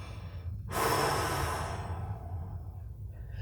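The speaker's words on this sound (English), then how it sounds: "you always feel calmer when you're breathing out" A person gives a full, slow exhale as a breathing demonstration, a single long breath rushing out loud and close, then fading over about a second.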